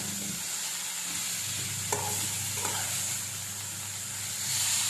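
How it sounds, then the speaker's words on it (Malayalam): Steady sizzling of chaya spinach frying in a pan, with a couple of soft stirring scrapes, close up and moderately loud. "ഇനി നമുക്ക് വലിയ ഇളക്കി കൊടുക്കാം കേട്ടോ ഒന്ന് മിക്സ് ചെയ്ത് കൊടുക്കാം"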